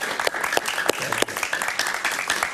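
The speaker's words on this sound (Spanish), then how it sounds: "Un aplauso para Luis, por favor." Studio audience applause on a television talk show, uneven clapping with distinct individual claps standing out, moderately loud and continuous throughout.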